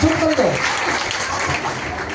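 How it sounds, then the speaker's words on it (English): Applause from an audience at a talk or class, a broad wash of clapping lasting about two seconds alongside faint voices, fairly loud and close. "give her a round of applause"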